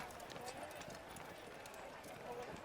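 Horse hooves clip-clop in Assassin's Creed, a steady trotting patter from chainmail-armored troop horses, faint and continuous beneath constant background game sound.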